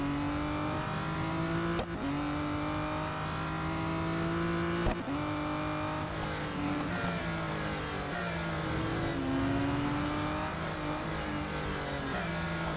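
Race car engine in the Real Racing 3 video game, on the Indianapolis Motor Speedway road course, droning loud and steady with rising and falling revs and brief shift dips, no talk over it.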